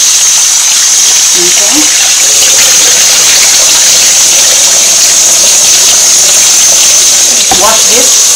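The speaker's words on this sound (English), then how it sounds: "you want to wash off your beef and your pigtail, guys." Tap water runs steadily and loudly while beef and pigtail are rinsed for Jamaican red peas soup, a constant gushing hiss with brief handling splashes; a voice speaks briefly over it.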